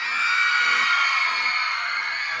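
Loud concert crowd screaming and whooping in unison to welcome a Thai band on stage, a sustained dense roar of many voices with no break.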